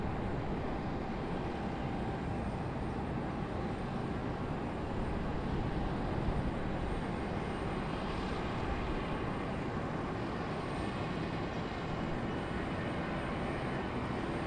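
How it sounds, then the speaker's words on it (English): A Delta jet airliner departs from a Raleigh-Durham runway, a sustained broad engine roar that swells slightly midway and stays steady and moderately distant, with no one speaking. "Rapid fire departures. Delta getting a move on now."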